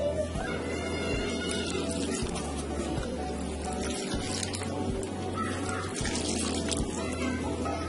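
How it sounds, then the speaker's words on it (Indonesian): Water pours and splashes steadily onto soil as chili pepper seedlings in pots are watered, with a faint bird in the background. "ini kita siram terlebih dahulu."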